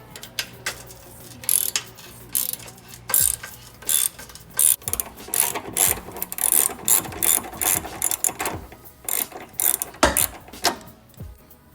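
A crusty 13 mm bolt on a BMW E46 M3 muffler is loosened with a ratchet, giving repeated bursts of sharp clicking and metallic rattling in an irregular rhythm, close and fairly loud with no talking.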